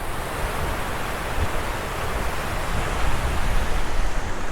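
River water rushes near the Kondeshwar Temple waterfall in Badlapur, a loud, broad, steady roar that swells slightly toward the end, with no talking.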